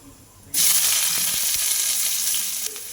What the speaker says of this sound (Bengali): এবার এর মধ্যে দিয়ে দেব মাঝারি সাইজের দুটো পেঁয়াজ কুচি